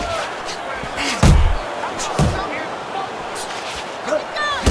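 Punches landing in the Fight Night Champion boxing video game, a couple of heavy thudding impacts with sharp attack over crowd ambience, while a commentator talks.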